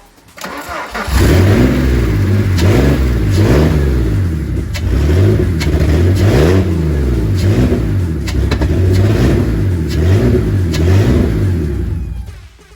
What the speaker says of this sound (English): I will start, yeah. Just because I am curious to see if it will actually turn over.